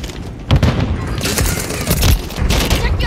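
Rapid gunfire in Call of Duty: Modern Warfare III, loud and dense with overlapping automatic bursts and booming impacts filling the whole stretch without a break.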